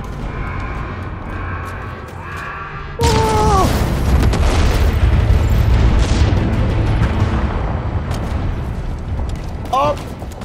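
An anti-aircraft gun's generator explodes in the Halo video game with a sudden loud boom that turns into a sustained roaring rumble lasting several seconds, followed by brief synthetic tones.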